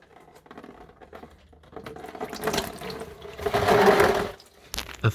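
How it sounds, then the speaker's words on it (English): Manual transmission oil drains out of the case, a soft close trickle and splatter that builds into a steadier pouring rush before tapering off. "now I'm gonna wait for a couple more minutes for the oil to drain out"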